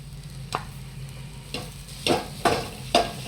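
Jaggery being stirred into modak filling in a pan: a spoon scrapes and clacks against the pan about five times, the strokes growing louder and closer together over a low sizzle.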